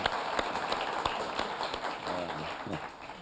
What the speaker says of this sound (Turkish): Ya bir alkış alalım mı Nesli